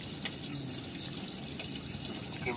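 Water splashing and trickling steadily along a residential roof gutter during a leak test near a sealant-patched edge, a continuous close wash with no speech.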